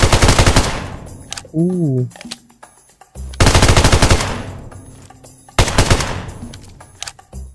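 A FAMAS rifle in PUBG Mobile fires in loud, rapid bursts of close automatic gunfire, separated by short pauses, with a brief exclamation from a player between shots.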